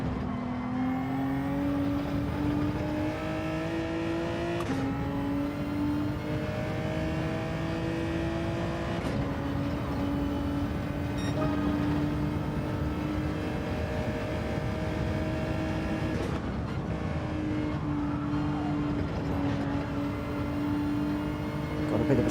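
Engine of a Genesis race car in the video game Gran Turismo 7, revving steadily through a run of upshifts, each gear climbing in pitch then dropping, loud and continuous with no talk.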